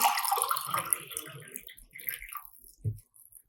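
Water poured into a glass container: a bright splashing, trickling pour for about two seconds, then a few small drips and a soft knock, with no talking.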